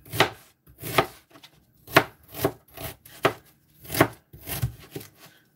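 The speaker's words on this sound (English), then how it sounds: "So for the ginger, I'm also going to be cutting it" A knife chopping fresh ginger on a cutting board for a blender drink, close crisp knocks in an uneven rhythm of about a dozen strokes with brief pauses.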